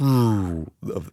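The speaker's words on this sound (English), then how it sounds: "That's the sound of the tape machine turning off." A sustained tone drags downward in pitch and fades out over about half a second, like a tape winding down, followed by a short vocal sound.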